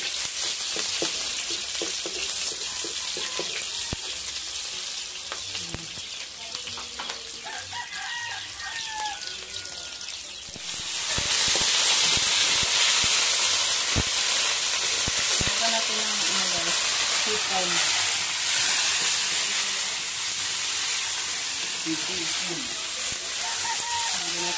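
Food frying in a home kitchen pan, a steady loud sizzle that jumps up sharply partway through as ingredients hit the oil, with roosters crowing and chickens clucking outside and occasional talk.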